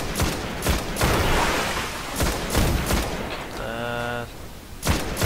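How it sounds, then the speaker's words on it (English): Sniper rifle shots in Destiny, sharp loud cracks spaced out over a few seconds with rumbling fire between them, a brief tonal electronic effect midway and a final shot near the end. "I think I need to shoot this one from a long range, with a sniper maybe"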